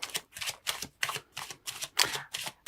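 Lenormand cards are slid and snapped from a deck in a steady run of about ten crisp, close papery flicks, rhythmic and fairly loud, with no talking.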